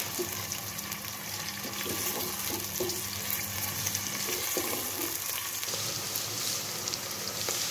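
Apple gourd (tenda) sizzling as it browns in hot oil, a continuous crackling fry with a few soft stirring clinks early on and no talking.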